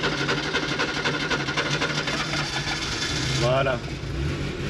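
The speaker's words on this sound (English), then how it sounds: "But I'm now gonna drive the classic 2 liter 1968 911." A classic 1968 2-liter Porsche 911 engine runs with a steady, close mechanical hum, swelling slightly near the end, while a voice briefly speaks over it.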